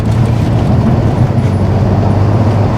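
A BMW E60 sedan with loose, floating steering and bad wheel alignment drives on the road, its engine and tyre rumble steady and close from inside the cabin, with no voices.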